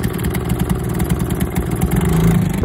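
An outboard motor mounted on a canoe runs at a steady idle, a close, even low-pitched putter with no talking over it.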